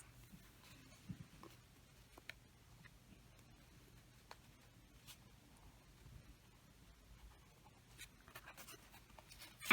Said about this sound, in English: And then we'll sketch out the ears for this.